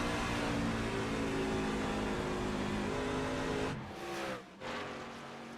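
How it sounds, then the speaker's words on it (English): A race truck engine drones loud and steady in an oil truck racing video game at Charlotte. Near the end the engine note drops away twice as the clutch is worked, then picks up again. "And I'm hearing clutching again from another truck."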